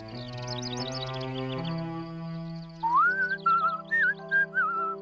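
A person whistles a short, lilting tune in clear melodic phrases, bright and close, over a soft musical backing, with no talking.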